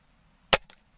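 A Gamo Swarm Viper Gen 3i .22 air rifle fires at a target, giving one sharp, loud crack with a brief fainter follow-up and the start of another report, with no talk.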